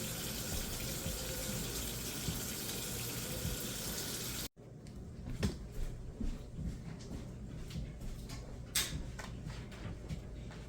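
Water filling a container to soak kimchi cabbage, a steady rushing pour that stops abruptly partway, followed by quieter drips and small splashes.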